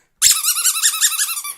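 A rubber squeaky pig toy squeezed hard, giving a loud, close, wavering squeal that pulses rapidly for over a second, with a brief low dog sound at the start.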